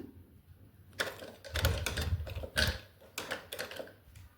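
A sewing machine stitches a small Holi dress for a Laddu Gopal doll in short, faint bursts of whirring, stopping and starting in uneven spurts with quiet gaps between them.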